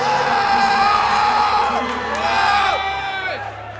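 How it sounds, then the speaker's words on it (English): About 25 people in a hype crew scream, whoop and cheer continuously for a powerlifter at a bench press attempt during a national powerlifting championship, a loud, dense crowd roar that swells and fades slightly. "There's like 25 people screaming for him."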